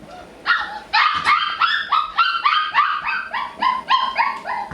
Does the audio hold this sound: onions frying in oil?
no